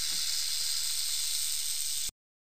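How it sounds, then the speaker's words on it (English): A snake's hiss, a steady, airy, broadband rush held for about two seconds at an even level, then stopping suddenly. "Snake."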